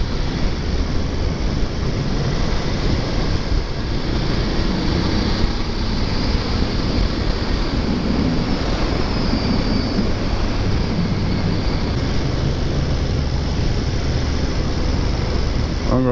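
A BMW F750GS motorcycle on the move, with steady, loud engine drone and rushing wind noise that stays constant and close throughout, with no talking.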